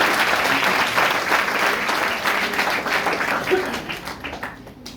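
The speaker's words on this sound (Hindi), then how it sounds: "जोरदार ताली बनता है। जोरदार ताली।" An audience at a career guidance program claps in steady, dense applause that stays loud before slowly fading toward the end.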